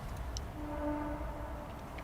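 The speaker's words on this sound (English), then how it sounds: "That's just a train." A distant train passes beyond the woods near a campsite, heard as a faint, sustained low rumble with a soft drawn-out tonal note.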